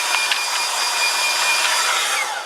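A hair dryer blows steadily and loudly to dry a freshly drawn pencil and ink picture of a piglet, a continuous airy whoosh with slight wavering and no voices.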